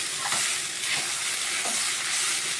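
Coriander leaves fry in a pan with vegetables, giving a steady, close hiss and crackle with soft stirring scrapes throughout.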